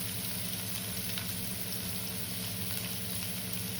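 Small shallots fry in ghee for green chilli chicken, giving a steady, dense sizzle that stays loud and even throughout, with no voices.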